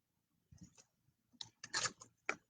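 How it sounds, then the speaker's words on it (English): Playing cards being shuffled during a card-reading session, heard as a few short, dry riffling bursts with gaps between them, fairly quiet and close, with no talking over them. "I'm going to shuffle the cards"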